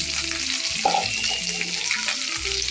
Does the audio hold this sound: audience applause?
no